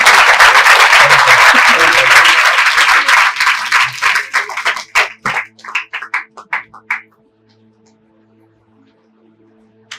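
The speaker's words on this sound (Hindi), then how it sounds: "आइए हम प्रभु के नाम में ताली बजा के उनका स्वागत करें" A church congregation at a Sunday service claps to welcome the pastor, loud sustained applause that thins into scattered individual claps and stops, leaving near silence.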